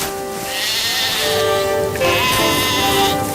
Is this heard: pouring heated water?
no